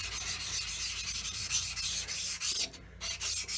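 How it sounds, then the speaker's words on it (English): A sharpening stone being rubbed back and forth on a lapping plate wetted with mineral spirits, giving quiet, close gritty rasping strokes in an uneven rhythm with a brief pause near the end. "I put a bit on my lapping plate, and I'm just going to clean the bottom of the stone."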